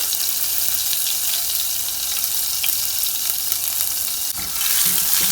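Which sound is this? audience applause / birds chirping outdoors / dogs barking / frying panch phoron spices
frying panch phoron spices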